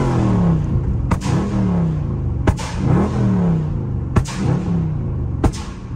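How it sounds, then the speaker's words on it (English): A Dodge Charger Scat Pack with its rev limiter removed revs hard, the engine note climbing and falling in repeated rumbling sweeps, punctuated by sharp loud cracks at roughly one-second intervals, close-up and alone. "Oh, y'all wanted to do a rev."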